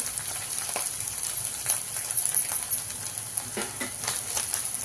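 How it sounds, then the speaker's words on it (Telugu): Ginger garlic paste frying in a pan for a fenugreek leaf chicken curry, giving a steady, soft sizzle with light stirring clicks nearby. "అల్లం ఎల్లిగడ్డ పేస్ట్ వేగిందండి"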